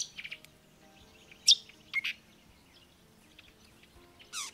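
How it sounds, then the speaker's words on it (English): A young robin fledgling gives short, high begging chirps in a few separate bursts, fairly faint and outdoors against a quiet background. "Here, a fledgling, begging for food."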